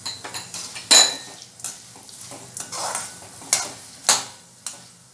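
Roasted chana dal for a poha chivda is stirred in a pan, the spatula scraping and clinking in irregular bursts of several sharp strokes over a light sizzle, close and fairly loud with no talking.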